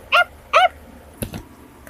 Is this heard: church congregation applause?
no